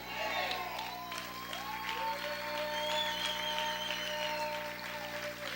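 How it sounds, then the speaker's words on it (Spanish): A church congregation applauds during a worship service, the clapping and cheering blending with sustained music and a voice for the full stretch at moderate volume. "Dale ese aplauso fuerte al Señor."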